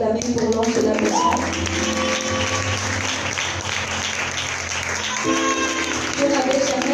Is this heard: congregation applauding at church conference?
yes